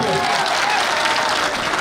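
A crowd of students at a gathering claps loudly and steadily in a dense, continuous round of applause.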